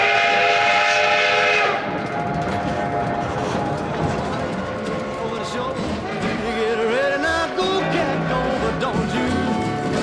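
A steam excursion train stands waiting on a street in Silverton in the San Juan Mountains, giving long sustained whistle tones and hissing over a busy outdoor scene, with people talking and crowd noise throughout.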